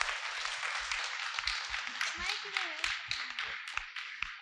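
Applause from parents in a school auditorium honouring the school management, a dense wash of clapping with scattered sharper claps and some background voices mixed in.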